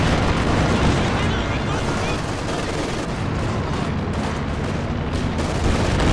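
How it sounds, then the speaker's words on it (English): High explosive rounds striking infantry in the Company of Heroes 2 strategy game: a loud, continuous barrage of blasts and gunfire with rumbling impacts, sustained throughout with no quiet gaps. "Panzer Grenadiers rushing forward, getting hit by high explosive rounds"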